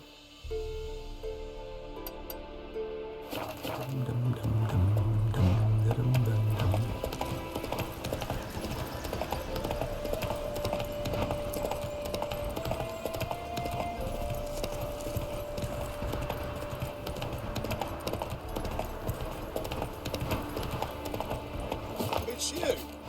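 Rhythmic clip-clop of galloping horse hooves in The Witcher 3 game keeps up steadily and fairly close, mixed with game music and a brief voice near the start.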